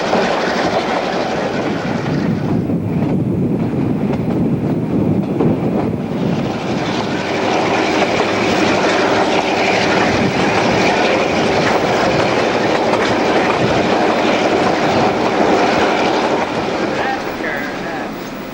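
A Newfoundland Railway mixed train climbs the grade from Caribou toward Summit, the line's highest point, with a loud, steady rumble and rhythmic wheel clatter sustained throughout at close range.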